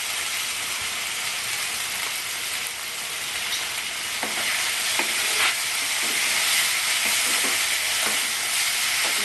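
Ginger-garlic and green chili paste fries in a pan for a Bengali omelette curry, a loud continuous sizzle with occasional scraping stirs and light clinks of a spatula against the pan.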